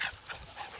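Beagle puppies give a brief, thin whimpering whine, faint and over in under a second.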